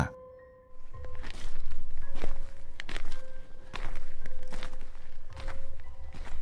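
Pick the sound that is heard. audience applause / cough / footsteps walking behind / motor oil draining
footsteps walking behind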